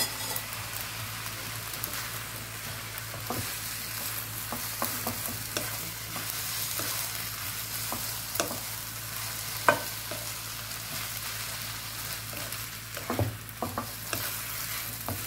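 Vegetarian glass noodles are stir-fried in a pan, giving a continuous close sizzle broken by scattered scrapes and clinks of a utensil stirring, with no voices.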